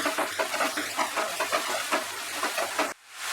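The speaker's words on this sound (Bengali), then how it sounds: "পেঁয়াজ বাটাটা দিয়ে এটাকে আরো আমি 2 মিনিট ফ্রাই করব।" Onion paste fries in a pan over medium heat for a Bengali fish kalia, giving a busy crackling sizzle with rhythmic stirring pulses before it cuts off abruptly.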